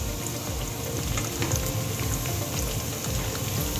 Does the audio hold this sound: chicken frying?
yes